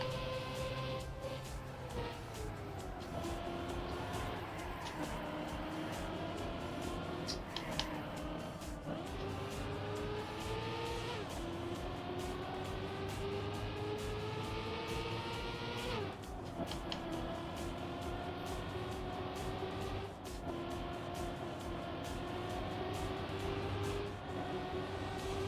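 Racing car engine in the Trackmania driving game on a Formula League lap, a constant loud whining drone that rises and falls in pitch as the car accelerates and shifts through the course.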